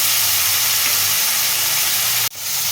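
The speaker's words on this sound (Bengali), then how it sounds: "পেঁয়াজ আদা রসুন একসঙ্গে একটু ভেজে নিচ্ছি" Onion, ginger and garlic paste frying in hot oil for a shrimp curry with potato and pumpkin, giving a steady, loud hiss that runs throughout before a brief dropout near the end.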